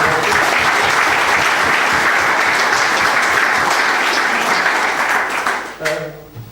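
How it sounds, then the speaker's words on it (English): A crowd applauds loudly and steadily at a charity cycling event launch night, the clapping fading out near the end as a voice begins to speak. "a round of applause for Gareth and the guys."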